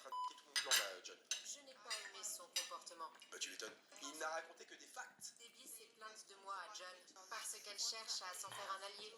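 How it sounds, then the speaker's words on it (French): Christmas dishes and cutlery clink and scrape repeatedly during a meal, light rapid metallic chinks against porcelain, close by with faint talk in the background. "je passe un bon moment à manger dans ma belle vaisselle de Noël"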